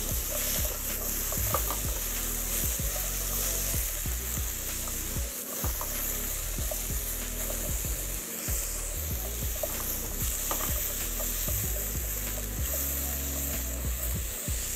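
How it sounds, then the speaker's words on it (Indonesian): Garlic is stir-fried in a pan for Korean bibimbap, with a constant close sizzle under regular, rhythmic scraping strokes of a utensil against the pan. "kita masukkan bawang putih. Tumis sebentar lagi."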